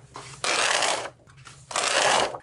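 Sheets of scrapbooking paper being sorted and shuffled into categories, giving two long, close, dry papery rustling bursts separated by a brief quieter pause.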